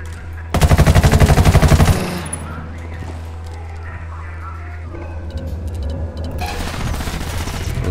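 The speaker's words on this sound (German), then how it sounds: "Was schießt denn da?" Loud sustained bursts of automatic gunfire from the video game Ghost Recon Wildlands ring out for over a second, then fade into lighter background game noise while voices talk.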